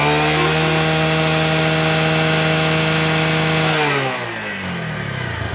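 A Bajaj Discover 135 motorcycle with a spark plug current-missing fault is held at a loud, steady high rev with a buzzing, sawlike tone. After about four seconds the throttle closes and the engine drops back toward idle.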